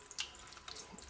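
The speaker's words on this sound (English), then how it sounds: "So let's just pour some water on." Tap water runs into a pot, a soft, steady splashing with a couple of brighter spurts and drips, fairly quiet and with no voices.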